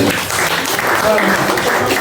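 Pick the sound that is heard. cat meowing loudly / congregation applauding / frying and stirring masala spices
congregation applauding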